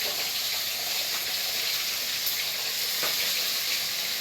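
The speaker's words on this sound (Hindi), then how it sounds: "फ्राई कर रहे हैं, फ्राई हो गया है" Fish frying in a pan gives a steady, close hiss of sizzling oil that runs unbroken throughout, loud and alone with no talking over it.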